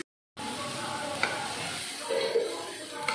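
Onion paste frying until browned, a short burst of close sizzling with spoon scrapes, starting abruptly after a moment of silence.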